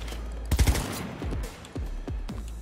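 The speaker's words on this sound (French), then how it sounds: "J'ai entendu des coups de feu, ça va?" Gunfire in the Cyberpunk 2077 video game: a burst of rapid shots followed by several separate loud bangs over about two seconds, close and punchy.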